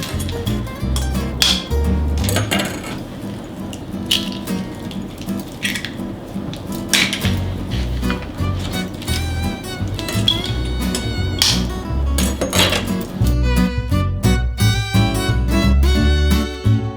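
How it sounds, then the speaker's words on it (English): Eggs cracked into a shallow tray while making French toast: a series of sharp taps and clacks of shell on the tray's edge, with wet squishes and clinks spread irregularly throughout, close and fairly loud. "So I'm going to crack my eggs"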